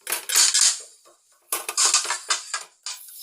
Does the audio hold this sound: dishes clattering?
yes